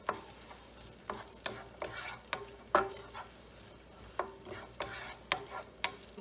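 A cup of onions sizzles in a pan while a utensil stirs them, steady frying hiss under regular scraping and knocking strokes about twice a second, close and clear with no talk.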